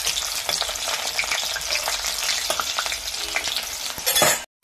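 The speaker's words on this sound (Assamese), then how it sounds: "কৰাহিত তেলে দিছো মই, তেলখিনি পুৰা গৰম হৈ গৈছে। ফ্ৰাই কৰি লম।" Food frying in very hot oil in a wok for a chicken curry, a loud, dense, continuous sizzle with occasional crackles and stirring scrapes that builds briefly before cutting off abruptly near the end.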